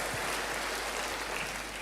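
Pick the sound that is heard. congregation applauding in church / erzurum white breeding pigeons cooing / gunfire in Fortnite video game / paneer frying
congregation applauding in church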